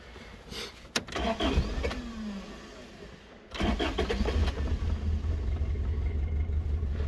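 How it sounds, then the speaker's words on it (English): A 1990 Toyota Space Cruiser (Model F) van engine cranks and catches after a brief click, then settles into a loud, steady, lumpy idle close by, with no talking. "Let's give it a little turn on. See if the car still turns on."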